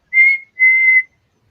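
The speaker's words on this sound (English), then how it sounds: "did not realize you could do such good whistling" Two sustained whistled tones, a short one then a longer one, clear and close with a brief pause between, no talking.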